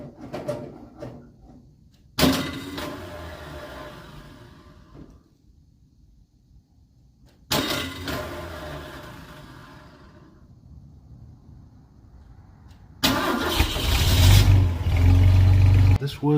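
Ford Econoline van engine with a faulty starter motor, heard in three separate start attempts, each an abrupt loud mechanical grinding burst that drags on for a few seconds and fades, the last turning into a rough running engine.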